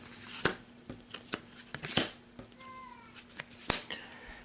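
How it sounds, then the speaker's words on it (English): Cards drawn and flipped onto a table during a Pathfinder Adventure Card Game session: a series of short, crisp papery snaps and slides at an irregular pace, close and fairly quiet, with no talk. "Let's draw him some cards."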